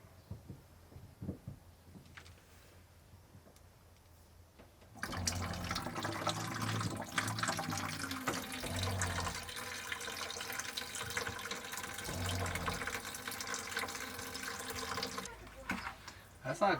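Water runs from a faucet in a camper van's freshly refilled plumbing system, starting abruptly and flowing as a steady hiss for about ten seconds before cutting off, with people talking faintly beforehand.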